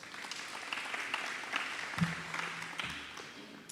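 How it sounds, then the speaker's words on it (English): A round of applause from a crowd at an automotive investor launch in the East London IDZ, a dense steady wash of many hands clapping at moderate distance, with a brief low hum partway through. "I think that alone deserves a round of applause."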